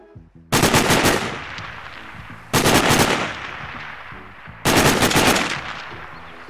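Three loud, evenly spaced bursts of rifle fire in the video game Sniper: Ghost Warrior, each sharp onset trailing off into a decaying echo, with quiet gaps between.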